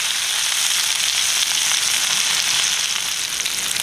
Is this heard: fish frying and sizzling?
yes